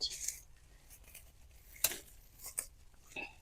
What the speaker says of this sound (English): these leaves that got bug bitten, I'll go ahead and defoliate. I just tear them off like that.